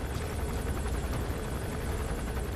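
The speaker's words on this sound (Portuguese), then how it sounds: "Ali tá o helicóptero de guerra dos caras." A war helicopter in the video game Metal Gear Solid V gives a steady, dense rotor and engine roar that stays even and fairly loud throughout, with no talking.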